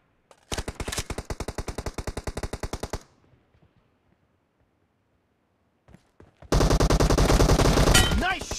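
Automatic gunfire in PUBG Mobile team deathmatch: a rapid, loud burst of evenly spaced shots for a few seconds, a quiet gap, then a second dense, sustained volley.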